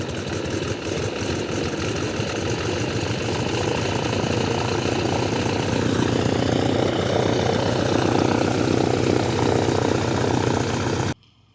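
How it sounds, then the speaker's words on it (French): Boeing Stearman biplane's radial engine starting up, then running loud and close at a rough, throbbing idle with propeller chop, steady for about eleven seconds before cutting off abruptly. "le Boeing Stearman qui s'apprête à mettre en route."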